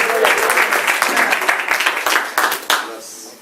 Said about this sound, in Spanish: Listo, un aplauso al Señor.